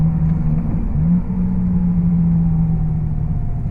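A Volkswagen Jetta's exhaust, with no valve control, rumbles as a low steady drone while driving, holding a continuous deep tone with slight swells and no talk.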